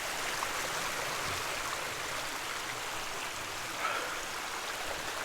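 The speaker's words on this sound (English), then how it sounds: "making your way across the creek, trying to not get wet." Creek water runs steadily over rocks, a constant broadband rushing that stays even and moderately faint throughout, with no voices.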